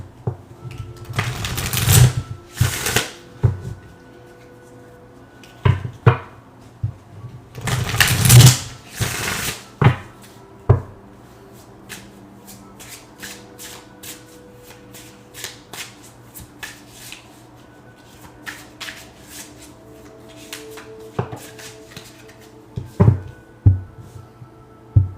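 A deck of tarot cards being shuffled up close, with repeated riffling bursts and soft card slaps that come in clusters separated by quieter gaps.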